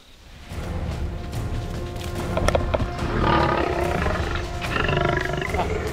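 A lion roars in a comedy film scene, a loud sustained growling roar that rises and swells over several seconds, with no talk over it.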